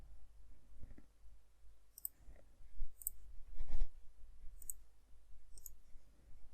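Sharp, light mouse clicks while working in Siemens NX CAD software, several isolated clicks spaced about a second apart over quiet room tone, close to the microphone with no talk.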